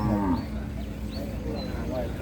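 A central Thai cow at a livestock market gives a short, deep moo at the start, followed by a steady murmur of crowd and market noise.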